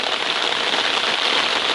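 Steady rain falling on the Appalachian Trail, a dense, unbroken hiss of drops on surrounding surfaces, close and constant with no voices.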